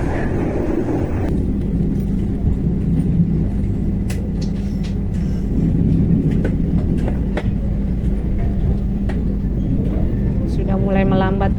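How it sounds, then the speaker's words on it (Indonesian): Malabar passenger train rolling and slowing as it arrives at Solo Balapan station in Java, heard from on board as a continuous low rumble with scattered clacks and squeaks, ending in a brief high brake squeal. "Mulai melambat teman-teman, karena memang sudah sampai di stasiun Solo Balapan, akhir dari perjalanan kereta saya kali ini."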